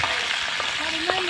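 Tempering for gongura chutney hits hot oil over a wood-fired stove, producing a loud, dense, continuous sizzle with faint crackles throughout.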